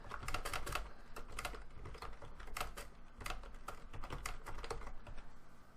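Quiet typing on a computer keyboard, with clusters of soft clicking keystrokes in an uneven rhythm and brief pauses between bursts, close and alone with no voices.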